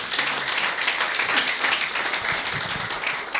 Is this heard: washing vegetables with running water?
no